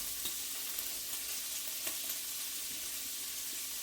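Finely chopped celery, carrots and onions sizzle steadily in a pot, a soft continuous frying hiss with a few light clicks of stirring, quiet and close with no talk.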